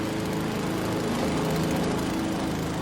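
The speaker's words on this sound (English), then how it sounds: "Dad's mowing again." A lawn mower runs continuously close by, a loud, steady engine drone with no pauses and no voices over it.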